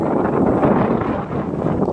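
Strong wind roars and buffets against the microphone during a group bike ride, a dense, loud rumble with no pauses.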